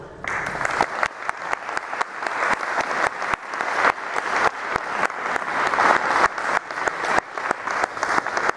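Audience applause welcoming speaker Rhoda Gilman at a talk in Baxter, Minnesota: steady, dense clapping from a seated crowd in a room, sustained at even loudness throughout without talk.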